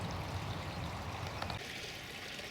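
A beck flows steadily downhill toward a river below a canal lock, a continuous broadband rush of moving water close by with no talk.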